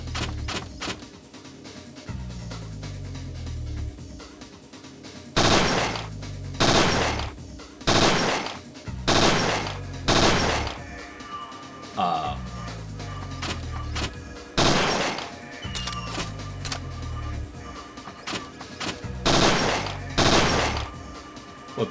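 Gunfire in the survival horror game Parasite Eve 2: a series of loud, sharp shots in irregular clusters of two or three, each followed by a short decaying thump, over a low steady game background with no talk.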